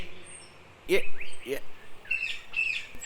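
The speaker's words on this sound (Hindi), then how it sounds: "बहुत सुंदर है ये चिड़िया।" Bright chirps from a bird in a Hindi cartoon, a few short sweeping calls close and clear, with a soft voice speaking between and under them.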